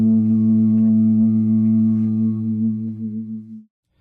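Two voices sing a steady octave in A inside a glacier ice cave, a loud sustained harmonic drone held for several seconds before it wavers and stops, with no talking.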